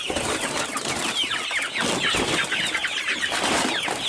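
Several homestead chickens cluck and chatter steadily at close range while eating feed, with busy overlapping calls and some light rustling and pecking underneath.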